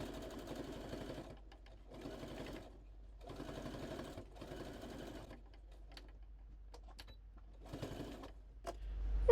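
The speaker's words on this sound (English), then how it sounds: "It's going to be a little squeeze under the sewing machine." A sewing machine runs a straight stitch to close up a fabric Easter bunny, in several short bursts separated by pauses, steady and fairly close.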